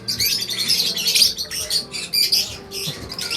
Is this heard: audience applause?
no